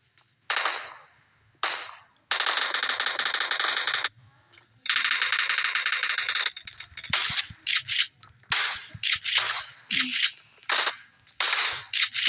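Rapid gunfire from the PUBG video game, with bursts of automatic fire and single sharp shots close and loud, alternating with clipped mechanical clicks and short gaps.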